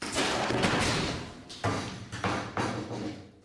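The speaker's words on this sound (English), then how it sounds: "This machine is called a wind-borne debris cannon" A wind-borne debris cannon fires lumber into a test wall simulating hurricane debris, producing a loud blast and impact followed by several rattling thuds and knocks, close and without speech.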